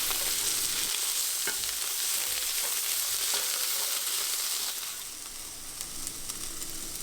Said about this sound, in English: I'm now going to add the tomato paste and saute that in, let that get a little bit brown, stick to the bottom of the pan.